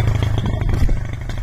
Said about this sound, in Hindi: ये बाइकें वगैरह जा रही हैं